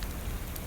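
Steady rain patters down in the survival game Card Survival: Tropical Island, a dense, even hiss that holds at a constant level throughout the brief moment with no voices over it.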